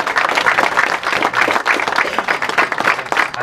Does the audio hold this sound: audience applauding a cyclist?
yes